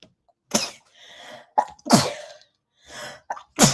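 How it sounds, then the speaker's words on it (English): Someone sneezes close to the microphone several times: sharp, loud bursts separated by short quiet gaps, with softer breathy sounds in between. "Ahora que ando pinche estornudando."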